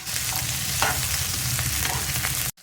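Potatoes, peas, paneer, garlic and other ingredients fry loudly in a pan, giving a dense continuous sizzle with occasional stirring scrapes, close and uninterrupted until it cuts off abruptly at the end.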